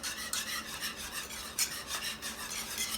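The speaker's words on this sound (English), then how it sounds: "Just drop it in there and whisk it in." Egg yolk being whisked into cheese soufflé batter in a pan, a steady quiet rasping whisk scraping in quick rhythmic strokes, close up with no talking.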